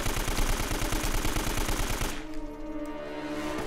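Rapid automatic gunfire in Uncharted: Drake's Fortune hammers away in a dense, loud stream of shots for about two seconds, then cuts off, leaving a ringing tonal hum and fading game ambience.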